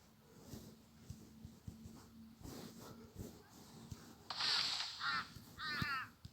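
Birds in a tree inside the bridge-building game Build a Bridge, giving a pair of raspy, crow-like cawing bursts near the end over a low, steady game backdrop with faint ticking.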